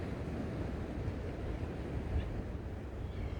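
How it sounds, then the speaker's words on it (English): A steady low wash of water and wind, continuous and fairly even, like gentle surf rolling nearby with no voices. "And listen to those gentle waves around us."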